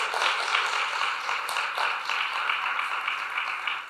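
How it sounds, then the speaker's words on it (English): Audience applause for panelists at a school district candidate forum, a dense, steady patter of many hands clapping together in a hall, sustained throughout. "please give our panelists, our candidates rather, a round of applause for this evening"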